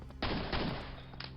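Gunfire in Quake, a pair of loud, close shots fired in quick succession after a short pause, followed by a fainter clack near the end.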